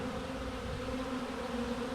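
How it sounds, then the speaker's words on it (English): A wild swarm of honeybees hums steadily while building fresh comb outside a hive, a dense, continuous drone close by with no talking. "So these bees have been here for several days."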